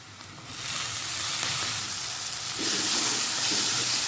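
Washed fenugreek leaves drop into hot oil with onions and turmeric, setting off a sudden loud sizzle that stays as a close, steady frying hiss with faint stirring.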